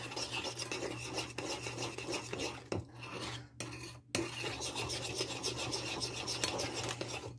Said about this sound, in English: You just keep stirring it.